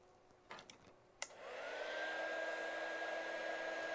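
Heat gun blowing on heat shrink tubing over a LiFePO4 battery cable, a steady whooshing blast with a faint whine that starts after a few light clicks and holds on, close by with no voices.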